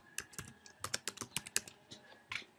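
Close, crisp keyboard typing on a Mac entering names into an Excel sheet, irregular bursts of clicks with short pauses between clusters, quiet room and no talk.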